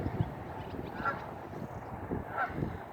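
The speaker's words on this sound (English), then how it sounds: "They're Canadian geese up on top of the building." Several honks from Canada geese on a rooftop, a few calls spaced across the moment, moderately distant over a low outdoor background.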